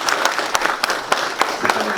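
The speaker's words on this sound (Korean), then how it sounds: "한번 박수 한번 해주십시오." Audience applause at an industrial development forum, marking the inauguration of a new association chairman: a short burst of scattered hand claps with a few distinct sharp hits over a murmuring room.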